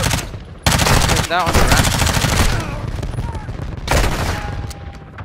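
Pistol shots crack out repeatedly in a Call of Duty Modern Warfare 2 campaign firefight, loud and close, layered with other gunfire and explosions while someone talks over the action.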